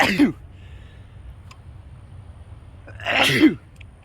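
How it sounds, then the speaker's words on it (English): Two sharp, close sneezes, one at the start and a louder one near the end, separated by quiet room tone. "let me sneeze real quick"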